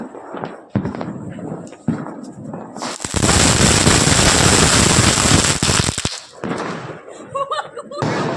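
Firecrackers bursting on a Kali Puja night, a dense, loud crackle that runs for about three seconds amid voices, laughter and a few sharp pops before and after.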